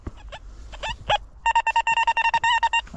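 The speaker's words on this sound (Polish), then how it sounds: "Jest sygnał taki, jak ja lubię, czyli bardzo wysoko" A metal detector sweeping the ground behind old houses gives a very high signal over a buried cutlery fragment: after a few short blips, a run of rapid, evenly pulsed electronic beeps sounds up close.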